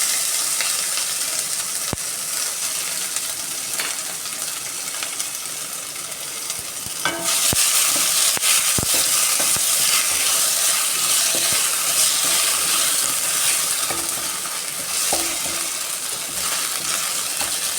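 Crushed ginger, garlic, green chilli and fennel seeds frying in a pan for kadala dry roast, a loud continuous sizzle with stirring scrapes and occasional sharp clinks of a spoon against the pan.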